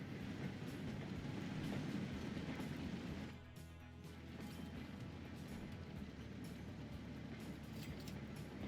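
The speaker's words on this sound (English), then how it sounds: "that's an interurban railway, and that's worked by steam trams" Steam trams running on an interurban railway in the game Transport Fever 2, a steady rolling rumble of wheels on track with rhythmic clatter and a brief pause in the noise partway through, heard alone without speech.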